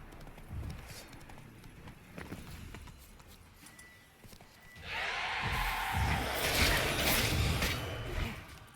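A horse's hooves pound in a fast rhythm in The Witcher 3, faint and scattered at first, then swelling into a louder, denser gallop over a rushing background.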